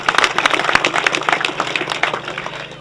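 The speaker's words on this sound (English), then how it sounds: "I think they also deserve a special round of applause." An audience at the official opening of a sports club complex gives a round of applause. The clapping is dense and continuous, fairly close, and fades slightly toward the end.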